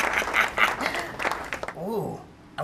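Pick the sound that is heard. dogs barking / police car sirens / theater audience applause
theater audience applause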